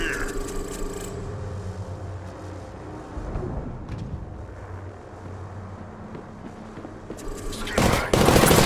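Gunfire in the Apex Legends video game: bursts of rapid automatic shots mixed with a droning aircraft-like engine, building to a loud dense volley at the end, alongside in-game voice lines.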